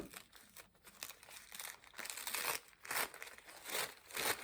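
Soft, continuous crinkling and papery rustling as thin layers of a paper napkin are peeled apart for decoupage, close and quiet, with irregular swells.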